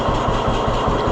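A 1948 John Deere B tractor engine idles steadily, loud and close, with a slow, even chuffing beat of regular exhaust pulses.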